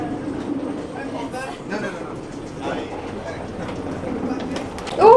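Riding aboard the Whoosh high-speed train from Jakarta to Bandung brings a steady, moderate cabin rumble with faint rail noise, while people talk over it and a sharp higher sound comes at the very end.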